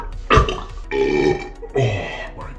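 Three long, loud, close burps after drinking protein powder, each a rough, drawn-out belch with short pauses between.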